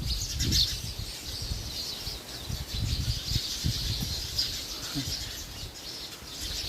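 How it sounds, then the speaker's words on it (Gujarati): Sparrows gathered outdoors in a village give off scattered high chirps and tweets over a low, rumbling background, fairly faint and continuous. "બરાબર ચકચકાટી જ થાય નકરું ચકલું જ છે આમાં"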